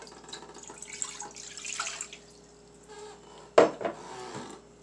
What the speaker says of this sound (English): I'm going to pour my water right in.